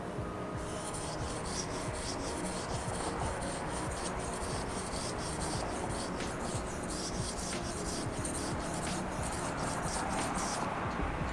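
A knife is drawn over a sharpening stone on its last pass, making a steady, close, continuous gritty scraping with no break and no voices.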